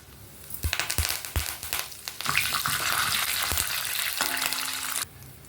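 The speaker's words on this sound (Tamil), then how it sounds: "இப்போ தாளிப்பு வறுபட்டுடுச்சுங்க." Curry leaves spit and crackle sharply in hot tempering oil for a mint and coconut chutney, with a few loud pops at first giving way to a steady close sizzle that cuts off abruptly near the end.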